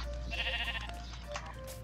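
A video game sheep bleats in a drawn-out, wavering call near the start, then softer bleats follow over a steady low background hum.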